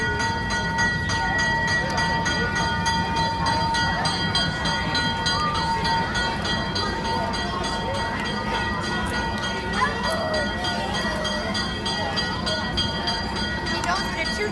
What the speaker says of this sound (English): He knows what a choo-choo is now.